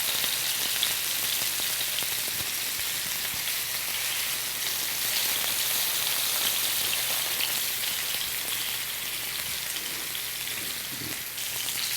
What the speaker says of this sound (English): You could just sear it nicely for at least 2 minutes on each side of the steak.